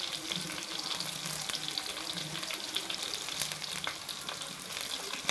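Crushed ginger and curry leaves sauté in hot oil for a tomato kurma, producing a continuous, fairly quiet frying sizzle with fine crackling and occasional soft stirring sounds.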